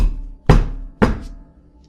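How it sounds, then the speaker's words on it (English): Two loud, close knocks land on a front door about half a second apart, each a heavy thud with a short fading tail, set in a scary story told in an ASMR style. "I heard him knocking over and over and over again"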